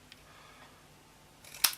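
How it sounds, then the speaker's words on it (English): A single crisp snip of scissors cutting through stacked craft pieces, a brief sharp click near the end after quiet handling noise. "I'm just going to take my scissors and I'm just going to cut off"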